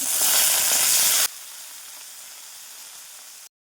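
Raw banana peels fry in hot oil with a loud, dense sizzle that drops abruptly to a quieter steady crackle partway through, then cuts out.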